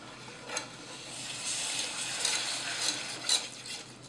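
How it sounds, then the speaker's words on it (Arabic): A spoon stirs milk gradually into a roux for Moroccan-style lasagne with minced meat, soft scraping and light sizzling from the pan with a few sharper clinks of utensil against the pot. "تنضيفو ليه لتر تاع الحليب بشويه وانا تنحرك"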